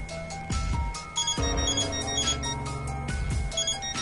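A mobile phone rings in the video game Death end re;Quest, a loud electronic melodic ringtone repeating its bright tonal phrase over and over, with musical notes and no talking.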